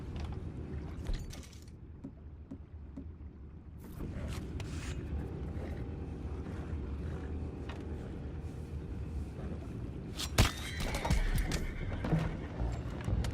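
Horses whinny and hooves clop faintly amid creaking mechanical sounds and a low background rumble in the video game Red Dead Redemption 2, with a sharp louder burst near the end.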